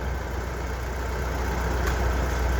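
A gas tractor engine, a 400 model, runs steadily at half choke with a close, constant rumbling drone and a faint even knock throughout, and no talking.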